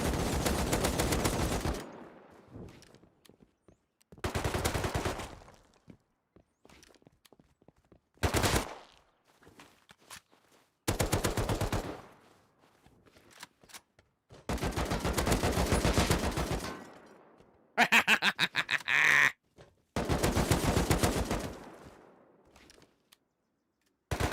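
Repeated bursts of rapid automatic gunfire from a video game, loud and close, broken by short silences between volleys.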